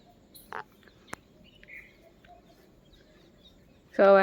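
Birds chirp in short, scattered calls, faint at first, then a louder, busier burst of chirping at the very end.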